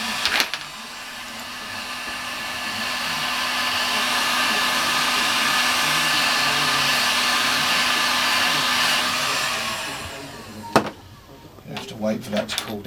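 A heat gun blows hot air onto heat shrink tubing on a guitar lead with Neutrik jacks, a steady whooshing hum for about ten seconds before it switches off, followed by light handling clicks and people talking nearby.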